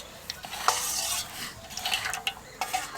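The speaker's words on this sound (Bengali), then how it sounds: "ভাজা মশলা দেব, ভালো করে একসঙ্গে মিশিয়ে নেব।" Bake crumbs, rice flour and fried spices are mixed together in a bowl, giving a steady scraping and rustling with a few sharp clinks of spoon against the container, close up and alone.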